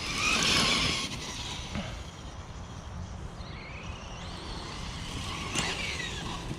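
Nomad DB8 6s RC buggy bashing off-road in a park, a loud continuous electric motor whine with tire and gravel roar throughout, rising in pitch at a couple of points as it accelerates, heard up close.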